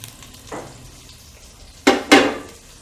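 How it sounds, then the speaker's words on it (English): Half an onion frying in hot oil in a pan for a mutton tripe curry, with a quiet background sizzle broken by three sharp bursts of crackling as the pieces are stirred, with no voices. "Fry it till it becomes brown."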